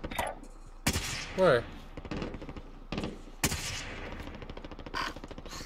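Gunfire in the video game Warzone: sharp, loud bursts around one and three and a half seconds, with quicker rattling shots scattered after, under brief spoken voice.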